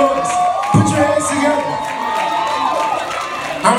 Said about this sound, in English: Come on, make some noise for Jesus.